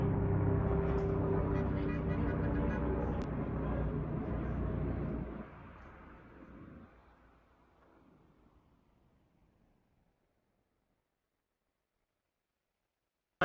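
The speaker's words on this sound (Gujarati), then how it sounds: "જોઈ લ્યો ગાઈસ હેલિકોપ્ટર." A loud steady helicopter rotor rumble and roar hangs overhead on the Kedarnath trek in the mountains, then fades gradually into the distance until silence.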